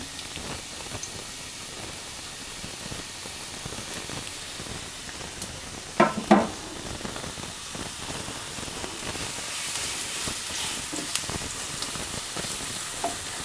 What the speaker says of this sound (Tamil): ஆயில் இப்போ நல்லா ஹீட் ஆயிடுச்சு. நான் வெங்காயம் போட்டுக்கிறேன்.